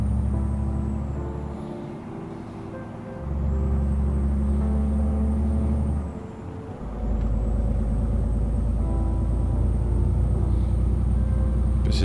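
A DAF XF E6 truck with an MX13 engine in Euro Truck Simulator 2, its low engine drone twice dropping away as it brakes, with soft air-brake hisses, heard from inside the cab.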